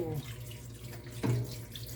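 Tap water runs in a kitchen sink while fish is washed for cooking, a soft steady splashing stream with a brief louder gush near the end, heard close by with no talk.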